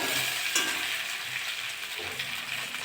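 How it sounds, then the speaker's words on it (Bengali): Taro (gathi kochu, also called kochumukhi) fries in oil in a pan for Bengali morola fish taro curry, giving a continuous bright sizzle with a brief stirring scrape partway through and no talk. "গাটি কচুটা একটু ভাজা ভাজা হয়ে গেছে,"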